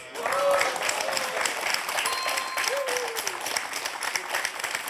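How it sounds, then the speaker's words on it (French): Studio audience applause on a French TV quiz show, a steady wash of clapping that holds throughout, with a few brief tonal sweeps rising above it. "les applaudissements de vos soutiens que j'entends"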